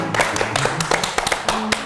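An audience at a school Quran-recitation event clapping close by, a loose run of sharp, uneven claps with a faint tonal hum underneath.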